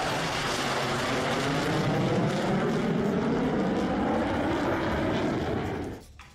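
US F-16 fighter jets flying in a military exercise, a loud continuous roar that swells as they pass and then drops away sharply near the end.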